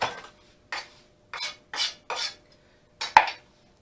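A knife chops fresh herbs finely on a cutting board for quinoa tabbouleh, six or seven short, crisp strikes in an uneven rhythm, close and fairly quiet, with no talking.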